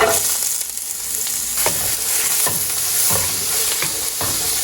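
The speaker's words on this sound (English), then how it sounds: "I'm just gonna add a little bit of olive oil, and then we're gonna toss in the onion" Chopped onion sizzles steadily in olive oil in a pan preheated over medium heat, a bright continuous frying hiss with soft scrapes from stirring mixed in, close and alone without any voices.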